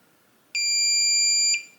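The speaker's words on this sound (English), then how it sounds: "Once you hear that long beep" A single sustained electronic beep from a Weiser Elements deadbolt lock, steady and clear, lasting about a second before cutting off, with only faint background hiss around it.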